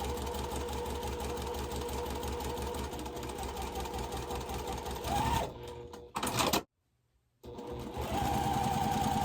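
Sewing machine stitching a quilt block with a quarter-inch foot, a steady close mechanical whir that stops briefly, goes silent, then starts again.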